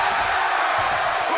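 A WWE 2K22 wrestling video game crowd roars in a continuous, loud wash of cheering and whooping from the arena during a ring match, with no distinct voices above it.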